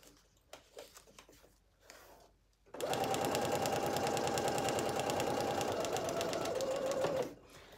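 A sewing machine stitches fabric for a Simplicity 9745 sewing project, a few short bursts and handling noises first, then a steady, loud mechanical whir of running stitches for about four seconds before slowing to a stop.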